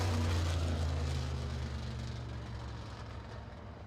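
Midwest Modified race car on the Owosso Speedway oval during qualifying, a low droning engine rumble, moderately distant and slowly fading.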